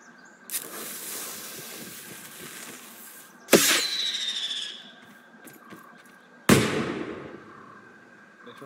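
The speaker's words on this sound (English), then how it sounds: "Gong firework launcher." A gong firework launcher in the video game Grounded fires three separate fireworks a few seconds apart, each a sharp burst followed by crackling, whistling sparkle that fades out.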